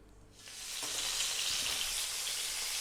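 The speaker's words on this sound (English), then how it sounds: "we're going to throw these around in the pan for about 6 to 8 minutes, turning them every now and then" Chicken pieces hitting a hot pan and frying, a sudden rise into a loud, steady hiss of sizzling oil that continues to the end, close by with no talking.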